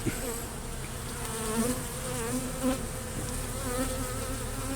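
Honeybees buzz steadily inside an open hive, a dense, close, continuous drone with individual bees swelling louder as they pass nearby.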